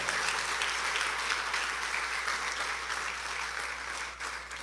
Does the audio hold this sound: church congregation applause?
yes